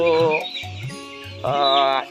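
Kazi layer pullet hens, 35 days old, in a flock of about 3,100 to 3,200 on a poultry farm cluck and squawk in short repeated calls, loud and close, several birds overlapping in uneven bursts.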